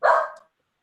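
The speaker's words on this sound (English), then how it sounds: "my dog's barking" A dog lets out one sharp, loud bark close by, cutting off quickly into silence.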